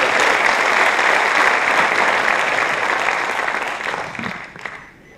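A large audience applauds to welcome Ram Naik at an event: dense, loud, continuous clapping that holds steady for about four seconds, then fades and stops near the end.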